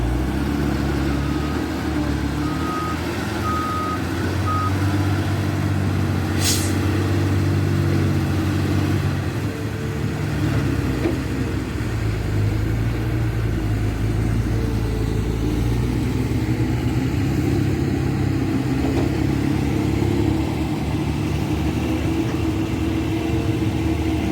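A dump truck pulls away on a work site beside a CAT 320D2 excavator, its engine a steady, fairly loud mid-pitched drone with slight revving under a constant rumble. No one speaks.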